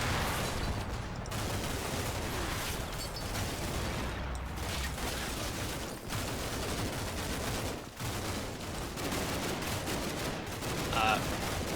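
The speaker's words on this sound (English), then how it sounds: "We are at least getting a little bit of fire out here, I guess." Gunfire in the combat video game Combat Mission Shock Force 2 during a longer-range engagement, a dense, continuous rattle of shots and distant bursts running steadily throughout, with no talk over it.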